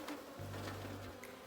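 Honeybees buzz steadily around a hive as two nucleus colonies are installed, a close, droning hum that thickens into a loud sustained tone for most of the moment before easing back.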